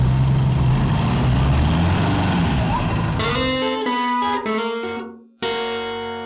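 Toyota Land Cruiser engine labouring as it drags a stuck car, left out of gear, along firm beach sand: a loud, steady rumbling drone that gives way to a tonal, electronic-sounding hum with brief dropouts near the end.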